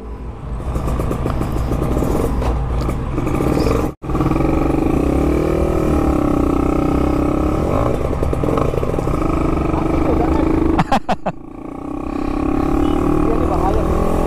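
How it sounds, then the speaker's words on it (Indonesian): A motorcycle with an oversized carburetor that won't hold a steady idle, blipped lightly near the mic in a loud, continuous engine roar with a brief cut and some fluttering revs; people talk over it. "Sambil digas dikit bang. Nah, dia nggak bisa langsam soalnya karbu gede."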